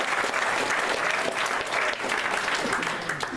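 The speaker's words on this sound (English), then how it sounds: "So, round of applause for those guys." An audience at Startup Weekend Adelaide claps, a loud, dense round of applause from a crowd that fills the whole stretch and fades only slightly near the end.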